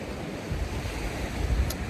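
Wind blows hard beside a lake in the Lake District, near Pooley Bridge, with steady rushing noise and low gusty buffeting across the microphone. No voices are heard.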